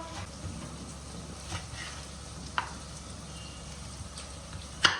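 Brinjal, onion and tomato sautéing in a pan, a soft, steady sizzle with faint stirring scrapes and a couple of brief clinks.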